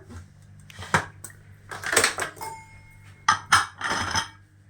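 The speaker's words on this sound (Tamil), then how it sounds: "இப்போ நம்ம குக்கர் மூடி போட்டாச்சு." Metal clanks and clinks of a pressure cooker lid being fitted and closed while cooking a village-style mutton curry, several sharp knocks in short bursts, close and fairly loud with no talking.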